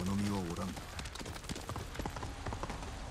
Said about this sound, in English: Give me my horse so I can get there a little bit faster